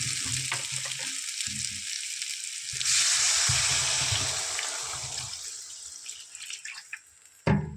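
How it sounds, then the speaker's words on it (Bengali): Water poured into a hot cooking pot of browned soybean chunks and potatoes bursts into a loud, broad hiss midway, easing to a steady sizzle and simmer before a sharp clatter at the end. "জল দিয়ে কষানো হয়ে গেছে, জল দেবো।"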